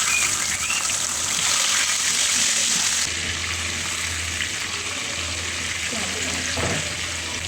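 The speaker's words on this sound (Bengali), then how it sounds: "আর এই চুলায় একে একে মুরগির পিসগুলো ভেজে নিচ্ছি।" Chicken pieces frying in a pan on a stove, a steady bright sizzle that drops to a lower, quieter sizzle midway, with faint clatter near the end.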